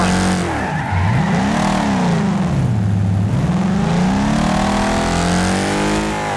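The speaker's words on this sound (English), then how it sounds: "So out of habit I downshifted there" A racing-game car engine revs loudly and continuously, its pitch swooping up and down as it downshifts into a sharp turn on the Pinehills Short track, with brief tire squeal.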